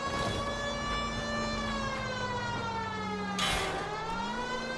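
A police car siren in the L.A. Noire video game wails loud and continuously, its steady tone shifting pitch as the vehicle drives, with engine rumble underneath.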